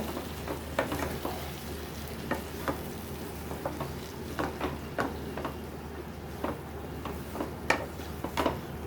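Snake gourd and shrimp being stirred in a frying pan, with repeated scraping strokes of a spatula over a steady low sizzle, close and moderately loud, with no talking.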